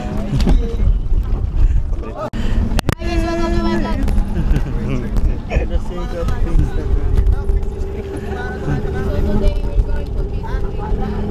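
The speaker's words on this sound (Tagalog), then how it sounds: "Okay, sasakay muna tayo ng bangka." Boat ride on the water at Boracay, a steady engine rumble with wind and splashing running throughout, while several people talk and call out over it.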